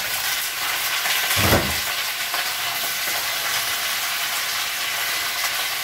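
Mussels tipped into a hot frying pan for Italian spaghetti set off a sudden loud hiss around the second mark, which settles into a steady, close sizzle that carries on alone.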